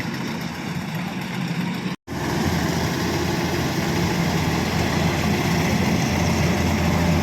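A Kubota rice combine harvester engine runs steadily in a muddy paddy field with a constant low rumble and hum, briefly cutting out for an instant before continuing at the same level.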